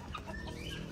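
Broody hen clucking in a coop: a few short, soft clucks, quiet and close together.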